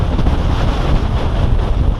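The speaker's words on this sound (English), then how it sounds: "It's going to be windy up here." Strong wind on a hilltop in Scotland, loud and buffeting against the microphone as a continuous roaring rush, with no voices.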